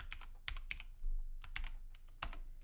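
Computer keyboard keys are pressed for copy shortcuts during Next.js coding, a few sharp clicks in small clusters with pauses, close and fairly quiet, with no voice.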